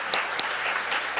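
A church congregation gives a strong round of applause during a service, steady dense clapping filling the room with a few louder claps standing out, no voices over it.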